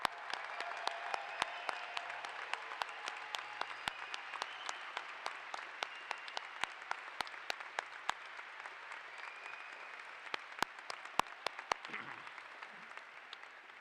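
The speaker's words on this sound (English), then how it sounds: "we acknowledge them with a round of applause" Sustained audience applause at a high school graduation ceremony, soft and distant with a dense wash of clapping and a few sharper nearby claps, lasting well over ten seconds before a brief low voice near the end.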